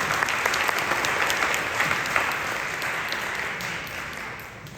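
Audience applause at a book talk event, a dense steady wash of many hands clapping that holds evenly throughout and fades slightly at the end.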